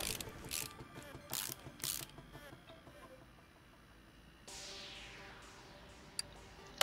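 Ratchet clicks tightening U-bolts on a leaf spring in Car Mechanic Simulator 2018, several short bursts of rapid clicking followed by a softer mechanical whir and a couple of sharp ticks, fairly quiet, no talking.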